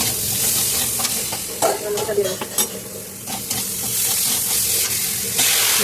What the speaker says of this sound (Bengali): লতিটা দিয়ে ভালো করে কষিয়ে নাড়াচাড়া দিয়ে ভালো করে কষিয়ে নিলাম